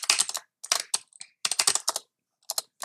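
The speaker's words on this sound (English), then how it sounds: "typing this password sometimes, oof, over and over again" Close, crisp clicks from a computer keyboard as a password is typed, in quick clustered runs of keystrokes broken by brief pauses, with no talking.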